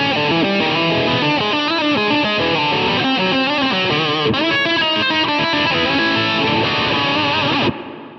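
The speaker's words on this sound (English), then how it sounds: "this next one features a Mesa Boogie dual rectifier model with some reverb" Heavily distorted electric guitar through a Mesa Boogie Dual Rectifier amp model plays chunky high-gain riffs with reverb, loud and continuous, then cuts off at the end.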